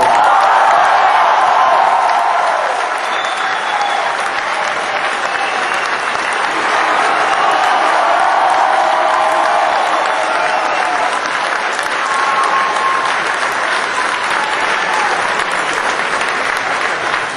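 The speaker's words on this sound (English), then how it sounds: "I don't know why you're applauding" A live panel audience claps steadily in a large room for the full stretch, loud and dense throughout, with a few scattered cheers rising over the applause and no talk on top.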